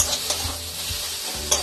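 Bengali-style spice paste (masala) for goat meat curry frying in a pan with a little sugar, sizzling steadily under repeated scraping stirs, close and moderately loud with no talk.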